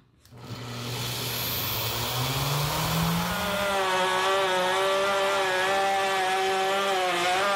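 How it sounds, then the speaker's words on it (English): Router cutting a wooden pattern for a split-pattern hand wheel used in sand casting, a steady loud whine that starts after a brief moment and holds with rising tonal harmonics, heard alone without talk. "Now this router bit's gonna leave a small step"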